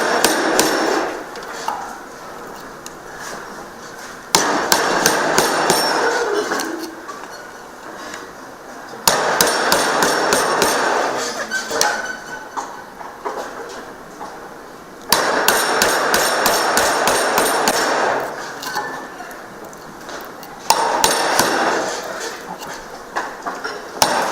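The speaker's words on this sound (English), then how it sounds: "Don't push in too much the chisel, you end up splitting the piece." Steady hammer blows drive a chisel into wood to cut a mortise for a mortise and tenon joint, in bursts of rapid repeated strikes separated by short pauses, close and loud throughout.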